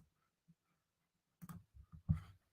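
A computer mouse clicking on a drop-down menu: a faint single tick, then a short cluster of quiet clicks and handling noises close to the microphone in an otherwise quiet room.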